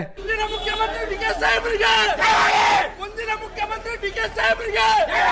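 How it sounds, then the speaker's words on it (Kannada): Political supporters roar out slogans hailing D K Shivakumar as the next chief minister, a loud massed crowd chanting in rhythmic surges with overlapping shouts and cheers. "ಮುಂದಿನ ಮುಖ್ಯಮಂತ್ರಿ ಡಿ ಕೆ ಶಿವಕುಮಾರ್ಗೆ ಅಂತ ಹೇಳಿ ಘೋಷಣೆ"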